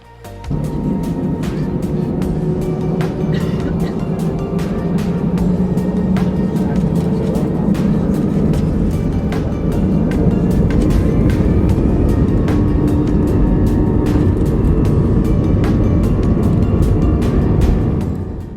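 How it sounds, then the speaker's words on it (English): easyJet airliner taking off from the 09 end of the Liverpool Airport runway, a steady loud jet roar with broadband rumble holding throughout, heard from inside the cabin. "The airplane landed up for the runway, and we were ready for takeoff."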